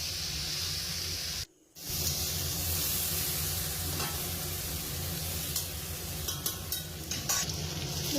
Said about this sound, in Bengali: ভেজে রাখা আলু কাঁঠালটাও দিয়ে 5 মিনিট ভালো করে কষাতে হবে